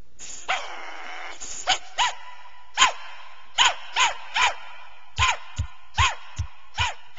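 Dogs brought to a protest at Guatemala's Congress bark repeatedly, a series of sharp, evenly spaced barks near and loud, with a brief whine near the start and no talking.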